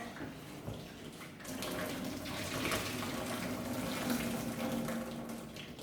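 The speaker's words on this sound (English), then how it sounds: "So I'm just going to add some boiling water." Steady rush of boiling water pouring into a sink, continuous and fairly close, with a faint splashing texture throughout and no voices.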